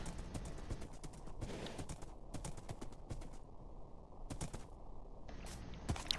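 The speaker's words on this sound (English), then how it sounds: "then we just gotta put the horses away" Horses walking in the Minecraft video game, a steady run of close, even clip-clop hoofbeats with occasional higher game sounds over a quiet background.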